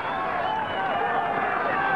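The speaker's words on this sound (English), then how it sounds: "Chandry urged on by the British crowd" Roadside crowd of British spectators cheering cyclist Chandry on a climb at the 1997 Rochester Classic, a steady dense roar of shouting and clapping that holds loud throughout with no gaps.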